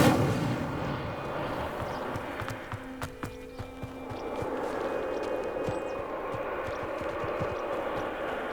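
Incendio fire spell cast in the Hogwarts Legacy video game, a burst of whooshing, crackling flame over busy in-game ambience, with a few sharp impacts and a short tonal hum in the middle.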